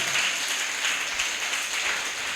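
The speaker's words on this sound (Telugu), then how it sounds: "చప్పట్లు కొట్టి దేవుని నామాన్ని కనపరుద్దాం" A church congregation applauds together during a sermon, a dense wash of many hands clapping steadily and evenly from start to finish, with no voices standing out above it.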